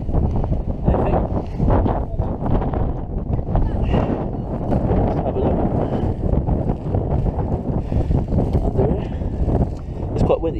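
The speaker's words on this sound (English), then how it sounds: "Quite windy today, I think it's pretty windy." Strong, gusty wind blasts across the microphone at seaside rockpools in Eastbourne, a constant loud buffeting roar that fills the whole stretch.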